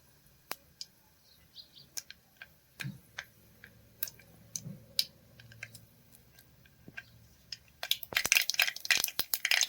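Mustard seeds crackle in hot oil for a Kathiyawadi vegetable curry, with sparse sharp pops scattered at first and then a dense rapid burst of popping near the end, close and fairly quiet, with no talking.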